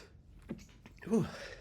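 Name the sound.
sneeze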